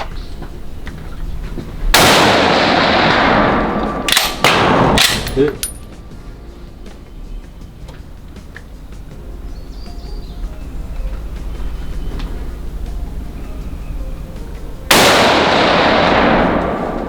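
Swiss K31 surplus rifle firing outdoors: three loud, sharp gunshots, the first near the start, a pair in quick succession a few seconds later, and a final one near the end, each with a booming tail.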